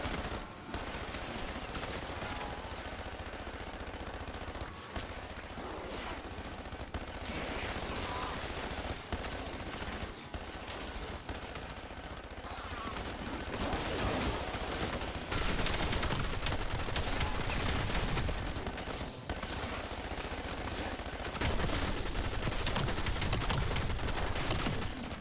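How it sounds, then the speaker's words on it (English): Sustained automatic gunfire from a sentry turret in Call of Duty Zombies, a dense, continuous rattling barrage that runs loud and unbroken, swelling in the later stretch, with no voices over it. "Sentry turret operation."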